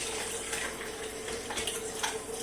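Water pours steadily into a coffee maker reservoir at home, a continuous splashing gush with slight surges and no talk over it.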